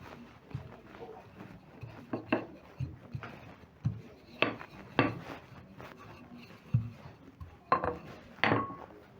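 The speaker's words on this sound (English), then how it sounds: "I'm going to use my rolling pin and spread out the dough to a big rectangle" A rolling pin works carrot chapati dough into a big rectangle on a wooden surface, giving soft irregular thuds and rubbing knocks at close range with no talk.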